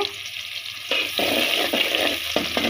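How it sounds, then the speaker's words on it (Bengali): Onion and garlic stirred in a hot pan for a chickpea dish, a steady close sizzle broken by repeated scraping strokes of the spoon, with no talking. "এখন আম্মু পেঁয়াজ আর রসুনগুলোকে নাড়িয়ে চালিয়ে নিচ্ছে"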